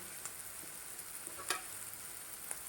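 Cumin seeds sizzling in a hot pan with roasted onion over a high gas flame, a faint, steady frying hiss with a few sharp crackles and pops, no voices.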